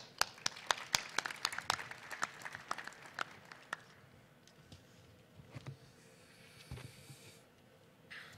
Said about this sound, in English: round of applause for Gilberto Hernandez